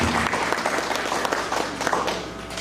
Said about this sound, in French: applaudissez très chaudement